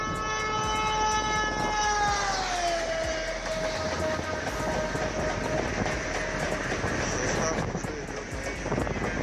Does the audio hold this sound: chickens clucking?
no